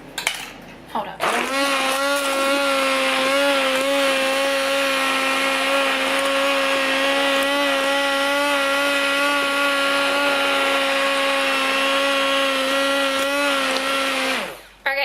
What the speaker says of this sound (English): Oh, I think I've got a stick mixer.